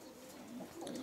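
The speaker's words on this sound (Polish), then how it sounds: "Gołębie różnej barwy, od czerwonej przez niebieskie, nakrapiane." Racing pigeons of mixed colours, red, blue and speckled, coo softly inside a loft, a low continuous murmur of overlapping calls close by with no speech.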